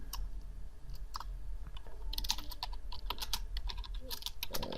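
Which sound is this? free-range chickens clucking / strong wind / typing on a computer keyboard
typing on a computer keyboard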